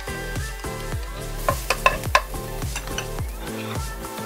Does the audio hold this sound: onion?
yes